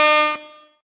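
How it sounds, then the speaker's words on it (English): A single short, brassy air horn blast sounds loudly, then cuts off and rings out briefly. "Can we get the raspberry horn for my wife?"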